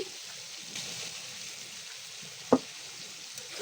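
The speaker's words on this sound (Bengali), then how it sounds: "আমি ভেজে রাখা মাছটা এখন দিয়ে দিচ্ছি" Fried prawns drop into cooked spice paste for a prawn bhuna, a quiet low sizzle with one sharp clink or splash midway, no talk.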